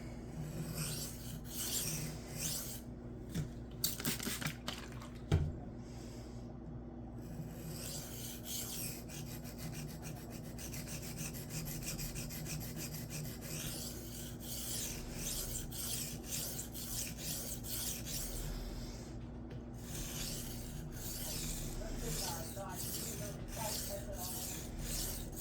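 Cold Steel Kudu Lite knife blade rubbed along a Shapton Glass 220 sharpening stone, a continuous soft close rasping of steady strokes, faint and even throughout, no talking.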